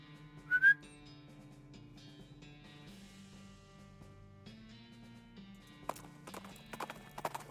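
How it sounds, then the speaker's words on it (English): In the West of Loathing video game, a short two-note whistle calls the horse Tina, followed by trotting hoof clip-clops and a neigh over soft background music. "Gotta whistle for Tina so I can get out of there."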